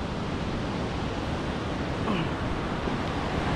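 A broad, steady rush of water flows at Jog Falls, a tall waterfall in India, with a continuous hiss heard from a viewpoint and no pauses or voices.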